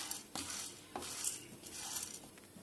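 Chana dal roasting in a pan for idli podi, stirred with a utensil that scrapes and clinks against the metal in an irregular rhythm, with a faint dry sizzle underneath, close and fairly quiet.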